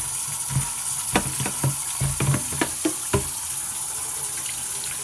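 Irish sea moss is rinsed under running water to wash out sand: a steady wash of flowing water with a series of splashy, uneven handling bursts, close and fairly loud, with no talking.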